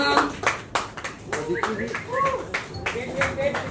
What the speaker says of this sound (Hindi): You all can also clap.